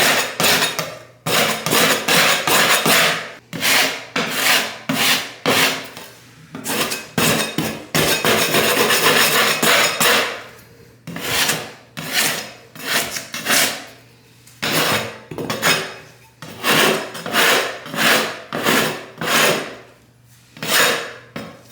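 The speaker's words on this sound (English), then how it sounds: "You just take this and just start scraping it off." Backing paper from stripped wallpaper being scraped off a bathroom wall with a hand scraper, loud close rasping strokes repeated in steady rhythmic bursts with brief pauses between passes.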